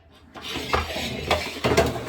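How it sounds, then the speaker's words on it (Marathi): Metal pots, utensils and a pressure cooker for dal and rice clank and knock a few times up close in a kitchen, with brief scraping between the louder clatters. "आता डाळ भाताचा कुकर लावण्यापासूनच आपण सुरुवात करू"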